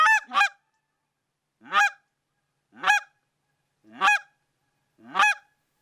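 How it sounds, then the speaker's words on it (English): A Zink goose call blows a loud hail, six sharp honks. Two come in quick succession, then four spaced about a second apart, each a crisp, snappy crack with no other sound around it. "I'll start off with kind of a loud hail"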